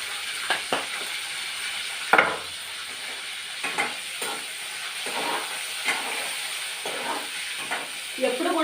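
Dried fish with turmeric fries in hot oil, giving a steady close sizzling hiss broken by occasional soft scrapes and clinks of stirring.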